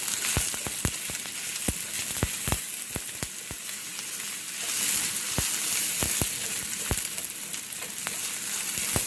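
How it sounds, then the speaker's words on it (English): Onions sizzle and brown steadily in a pan, a continuous close fry with sharp pops and crackles scattered throughout, no voices. "I'm gonna start the browning process of onion"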